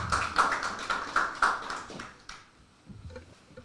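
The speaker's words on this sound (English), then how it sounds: "A round of applause." An audience at a web app launch event claps in a short burst of spaced, sharp hand claps that fade out after about two seconds.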